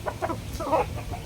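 A fighting rooster of the Pile Sweater line, an older bird, gives short clucking calls in a few quick bursts, close and fairly clear with light background noise.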